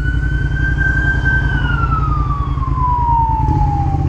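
An emergency siren wails in the distance, sweeping slowly down in pitch over a steady low motorcycle engine rumble close by.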